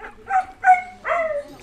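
Dogs at an animal shelter in Mariouteya, Egypt, giving four close, short bursts of high yips and barks with brief gaps between them.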